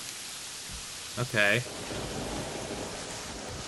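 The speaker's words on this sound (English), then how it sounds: "Oh, it's raining now." Rain falling in the video game Terraria, a soft, steady hiss of rainfall continuing quietly throughout, while a person briefly speaks a single word over it.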